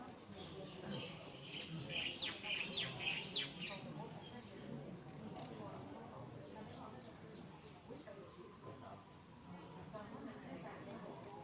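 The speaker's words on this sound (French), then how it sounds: "Le soleil tombe. Les oiseaux sont là. Ils viennent dormir." Birds chirp and twitter as they come to roost at a Buddhist temple at sunset during a religious festival, strongest early on and then fading into the background, with someone talking over the crowd's ambience.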